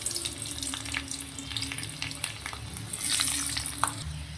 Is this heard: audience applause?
no